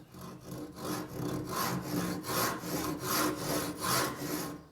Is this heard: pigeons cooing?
no